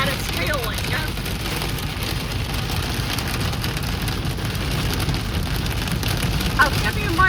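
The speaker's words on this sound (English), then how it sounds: "That it's hailing." Hail falling during a spring hail storm, a dense steady clatter and hiss of ice pellets striking surfaces, continuous and fairly loud throughout, with faint background rumble.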